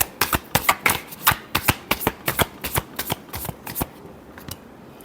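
Tarot cards being shuffled by hand, a rapid series of about fifteen crisp riffling slaps close up, evenly paced, then trailing off into quiet.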